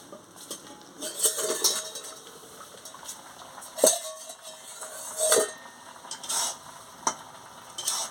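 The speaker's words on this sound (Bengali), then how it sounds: "এবারে ঢাকনাটা খুলে নেবো সিদ্ধ হয়ে গেছে" A lid is lifted off a cooking pot of boiled potatoes and green papaya, with a few scattered metallic clanks and knocks against quiet kitchen background and a soft bubbling simmer.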